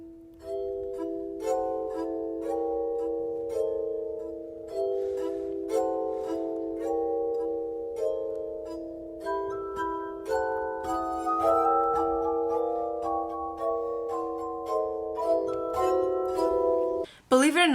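Water-filled glasses of different sizes are played as a glass harp, giving clear, sustained ringing tones that move through a slow melody, with notes overlapping. A short clunk comes at the very end.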